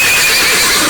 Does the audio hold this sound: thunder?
no